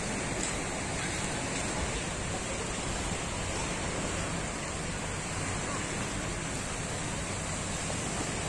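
Steady broadband sea surf washing onto the shore at Villamar Beach Resort, a continuous wash of waves with some wind rumble, no distinct breaks, fairly close and even in level throughout.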